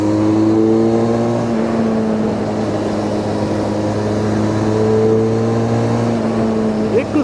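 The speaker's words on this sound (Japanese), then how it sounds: "いや、それにしてもこのエンジンは本当によく回ります" A Harley-Davidson X500 parallel-twin engine with 360-degree crank hums steadily under load, its pitch holding then shifting as it revs, loud and close with a constant mechanical drone.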